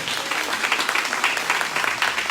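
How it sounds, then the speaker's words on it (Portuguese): A church congregation at a prayer service bursts into dense, steady applause, many hands clapping together at moderate loudness without a break. "Pode aplaudir mais uma vez."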